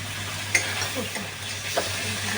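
Tomatoes going into a pan of sizzling fish curry with red chilli powder and salt, a soft continuous frying hiss with a few light stirring knocks, close but fairly quiet.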